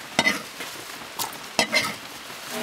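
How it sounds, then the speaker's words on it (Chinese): Pickled cabbage and chopped pickled chillies tossed in a hot wok outdoors, with two sharp scraping stirs of the spatula over a steady light sizzle as the water cooks off. "好，先把这个下锅炒掉水，"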